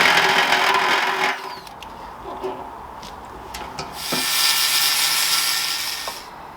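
A power drill bores into a brand-new fuel tank, rinsed out with water beforehand, for a Willys mini jeep build: a steady rasping, grinding whine that eases off midway then returns brightly and continues close up, with no talk.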